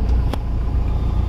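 A Porsche rumbles past close by, a heavy low engine and road roar that stays loud and steady through the brief moment.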